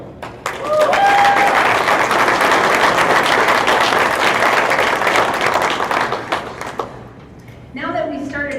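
Audience applause at a school district wall of fame ceremony, a loud, steady burst of clapping lasting several seconds before it tapers off and a speaker talks over the room.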